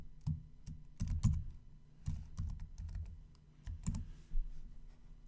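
Keys clatter on a computer keyboard in short bursts and scattered clicks as a batch name is typed into billing software, close and fairly quiet with no talking.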